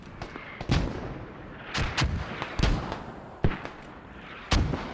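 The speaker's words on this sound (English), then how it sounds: "Casualties coming in as mortars start falling, Russian and militia mortars" Mortar fire in the Squad military game, Russian and militia mortars landing as a series of sharp booming impacts spaced about a second apart, each with a short rumbling tail, at moderate loudness with no voices.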